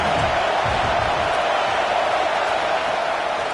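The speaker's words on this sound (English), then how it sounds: "The Buckeye crowd alive on 3rd down" A packed Ohio State Buckeyes college football stadium crowd roaring on a third down against SMU, a dense, sustained wall of cheering and whooping with no breaks, broad and loud throughout.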